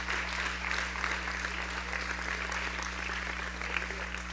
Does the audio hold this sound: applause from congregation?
yes